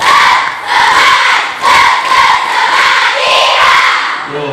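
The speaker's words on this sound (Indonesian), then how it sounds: "Tepuk semangat kobe." Female students at an Islamic boarding school installation ceremony perform a loud spirit clap chant, shouted in unison with rhythmic clapping bursts that swell and dip in several phrases, close and energetic.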